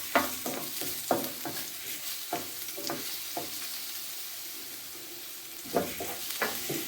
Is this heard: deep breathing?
no